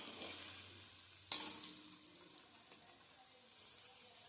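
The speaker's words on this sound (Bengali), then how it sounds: "আমার চিকেন বলসগুলোর একটা পিঠ ভাজা কমপ্লিট হয়ে গেছে।" Chicken balls frying in hot oil in a pan, a soft steady sizzle with a sharp clatter near the start as they are turned, then continued quiet bubbling alone.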